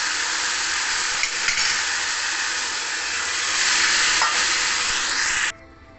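Food fries and sizzles loudly in a pan, a dense, steady hiss with occasional light stirring scrapes that cuts off abruptly near the end, leaving quiet room noise.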